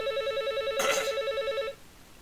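A telephone rings during a live broadcast: a warbling electronic trill that repeats steadily, with a brief rustling bump partway through, then cuts off and leaves quiet room tone.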